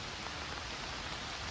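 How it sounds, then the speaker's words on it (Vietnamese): Steady rain falling outdoors on a tribal fishing trip, a dense, even hiss of drops on surfaces that stays constant throughout with no talking. "Mưa cũng không quản này."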